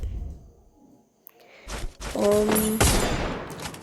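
Bursts of gunfire in a shooter video game, several loud rapid shots crowding together over a dense, noisy game soundscape, with a brief quiet gap before the firing starts.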